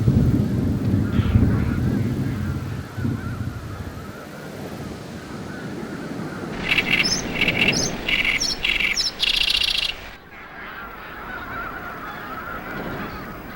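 Migratory birds gather at Cheonsu Bay in 2001: after a low, rumbling stretch, a flock of geese breaks into a loud, choppy chorus of honks and chirps, then fades back to a quieter outdoor hum.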